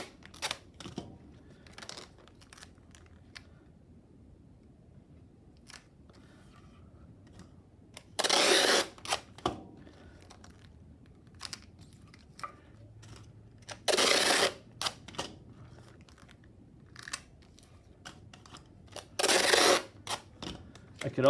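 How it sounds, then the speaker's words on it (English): Masking tape torn off the roll in three loud, separate pulls, each a harsh ripping burst lasting about a second, spaced several seconds apart over quiet handling noise while a screen-printing screen is taped off. "So I'm going to apologize for the tape being kind of loud."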